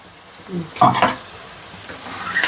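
Masala fries in a pan for prawn fry, a soft sizzle under a short burst of scraping stirs near the middle, close and fairly quiet, with no talk over it.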